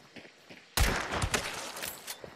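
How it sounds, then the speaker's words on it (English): Gunfire in the video game Hunt: Showdown. After a quiet lead-in, a loud shot bursts in suddenly and is followed by several more sharp reports with a rolling echo that fades gradually. "Shoot her in the head."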